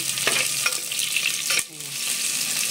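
Onion and garlic sautéing in a hot clay pot, a steady close sizzle of frying with stirring scrapes and taps against the pot, briefly dipping before the hiss resumes.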